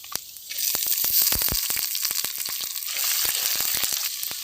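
Crackling, popping sizzle of tempering seeds and leaves frying in hot oil, with ginger and onion, for village-style potato masala; sharp irregular pops over a steady hiss, close and fairly loud.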